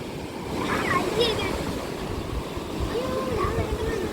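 Ocean waves break on Calicut beach in a continuous rushing wash with wind buffeting the microphone, while voices talk over the surf.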